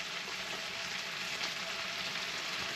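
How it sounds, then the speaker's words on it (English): Chicken pieces browning in a hot pan give a steady, close sizzle with an even crackling hiss that holds at the same level throughout, with no talking. "Chicken's browning nicely now."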